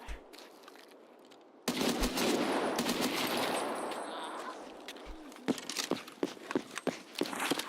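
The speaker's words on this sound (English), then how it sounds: "The G28 unsuppressed sounds beefy as fuck." Unsuppressed G28 rifle in Escape From Tarkov firing loud, heavy booms with a long sustained roar of shots, then separate sharp cracks and footstep-like thuds toward the end.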